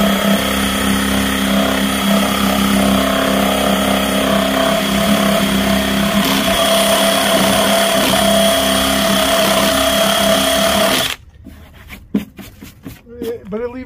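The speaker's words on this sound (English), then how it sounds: "Grab the buffing wheel." A buffing wheel whines loudly and steadily against a vehicle as it strips off a decal, then cuts off abruptly, leaving a voice talking over a few scattered knocks.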